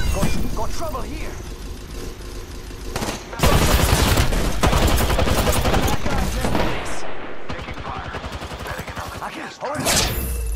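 Dense bursts of automatic gunfire in the video game Apex Legends, with rapid rattling volleys, sharp single shots and mechanical clatter, loud and close, broken by brief gaps and mixed with in-game voice callouts.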